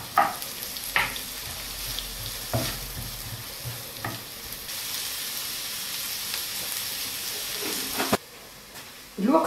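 Onions frying in a pan for meat and chicken tacos with salt and black pepper, a steady hissing sizzle punctuated by several sharp spoon knocks and stirring scrapes, close and moderately loud, no talking.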